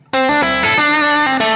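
Electric guitar on the bridge pickup through effects units, bright distorted chorus-tinged notes ringing out in a short sustained phrase with a few changes, loud and alone.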